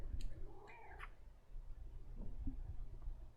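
A pet cat meows twice in quick succession, faint and fairly close, followed by quiet room noise with a few small sounds.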